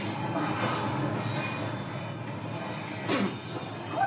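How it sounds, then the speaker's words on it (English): A train leaves, with a low continuous rumble of rail cars and a brief wheel squeal near the end, moderately distant and steady. "That sounds like a train. A train leaving."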